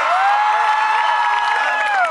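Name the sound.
concert crowd applause and cheering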